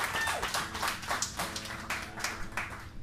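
An audience at a live pub gig at The Saxon Pub claps in a dense, fairly close burst of applause that carries on steadily for a few seconds.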